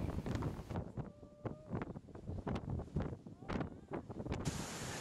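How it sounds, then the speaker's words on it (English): Strong wind on a mountain summit during the Boiling Lake hike in Dominica buffets the microphone in irregular gusts, rumbling and roaring up close with no clear voices. "And boy, was it windy"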